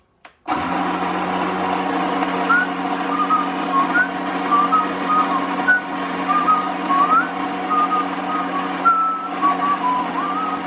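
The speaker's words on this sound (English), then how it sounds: "Just mute me for a second whilst I grind this coffee." A coffee grinder grinds beans at home, a steady loud whirring drone that starts abruptly and runs on without a break, with faint high squeaks flickering above it.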